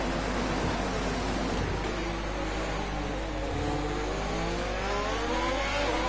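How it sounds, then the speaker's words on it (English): Race car engines in an online racing game event in Italy, a steady loud drone of revving motors with rising and falling pitch sweeps from passing cars, continuous throughout with no talk. "Why is there always this one car that has that weird engine sounds?"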